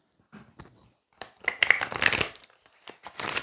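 Oracle cards are shuffled off camera in short papery bursts of riffling and sliding, with gaps of quiet between the louder flurries.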